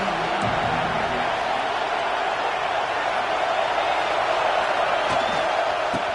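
Crowd noise fills the stands at a college football game, a continuous broad roar with a few sharp thumps and whoops rising from it, holding at a steady level throughout.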